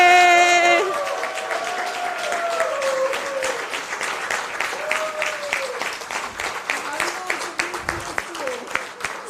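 An audience at a memorial endowment lecture applauds with steady clapping and scattered cheers, while voices speak over it at the start and the clapping thins into more distinct claps toward the end.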